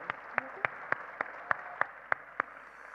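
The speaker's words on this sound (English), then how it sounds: "Let's give them both a huge round of applause." Audience applause at a charity's annual general meeting: a thin, sparse spatter of separate claps, about nine sharp hits spaced roughly evenly over three seconds, fairly quiet and distant in a large room, with no voices over it.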